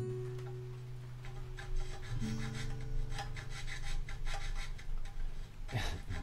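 A file rasping back and forth across a guitar nut during a Spanish conversion of a lap steel into an electric guitar, steady rhythmic strokes close up, with a faint sustained ringing tone underneath early on.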